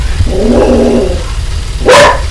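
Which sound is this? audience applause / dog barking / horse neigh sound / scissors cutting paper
dog barking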